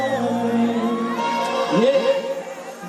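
A large crowd roars and whoops at a Bhojpuri public event in Fazalganj Stadium, Sasaram. Sustained cheering mixes with loud sung or shouted voices, and a burst of yelling rises near the end.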